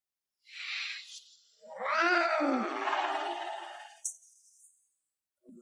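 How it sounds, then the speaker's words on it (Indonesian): A black cat gives a short meow followed by a longer, drawn-out wavering yowl, close and fairly clear against silence, ending with a brief faint sound. "Di kota bunga, dari mana datangnya kucing hitam?"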